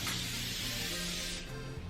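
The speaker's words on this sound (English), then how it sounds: "It's the Evian facial spray, hydrating facial spray." An Evian hydrating facial spray mists close up in one continuous fine hiss, lasting over a second before cutting off.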